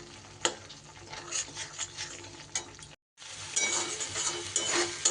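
Coconut and mustard paste sizzles in a pan while being stirred and scraped, with clinks of a utensil against the metal; the steady frying cuts out briefly midway and then resumes; no speech.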